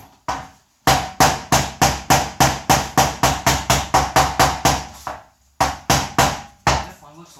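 A hammer knocks out a dent in painted metal, about twenty sharp, close blows in a fast, even rhythm, then a pause and a few more strikes.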